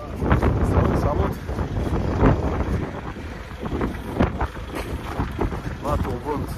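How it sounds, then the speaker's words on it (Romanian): Strong, gusty wind buffets the microphone outdoors on a snowy roadside in Latvia, loud and continuous, with someone speaking over it. "Un vânt foarte puternic."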